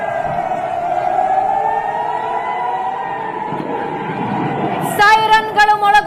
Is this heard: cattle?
no